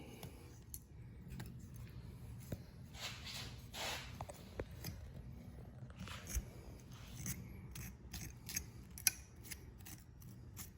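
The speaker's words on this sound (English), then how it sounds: "So you want to cut close to the skull here." A knife cuts the cape away close to a deer skull, giving quiet, close scraping and snipping strokes in irregular bursts over a low background rumble, with no talk.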